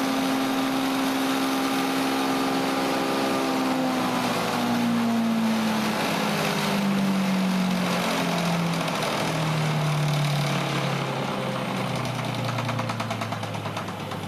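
A chipper shredder converted to run on an electric motor is held at full throttle, roaring steadily and loudly with a rough mechanical rattle and a hum whose pitch slowly falls as the machine works. No one talks over it.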